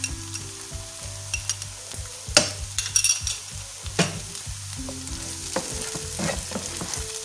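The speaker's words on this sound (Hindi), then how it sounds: "इसमें मैं डालूँगी लहसुन अदरक ताकि वो भी साथ फ्राई हो जाए अच्छा सा।" Fish frying in a pan with garlic and ginger over a medium flame, steady sizzling with intermittent stirring scrapes and clinks of a utensil against the pan, close and moderately loud, no speech.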